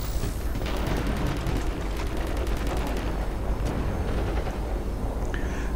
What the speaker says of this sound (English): it's a blast cannon